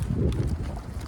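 Wind buffets the microphone outdoors, a loud low rumbling roar with gusty swells that fills the whole second.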